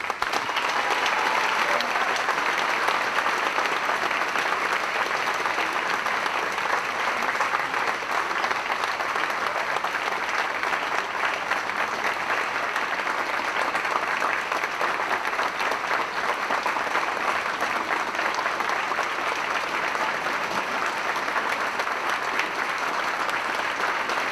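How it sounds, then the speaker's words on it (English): Guests at a high school NJROTC ball give a long, sustained round of applause for Mr. Kravis, dense steady clapping filling the room for over twenty seconds without letting up. "I ask that we all now take a moment to give him a round of applause"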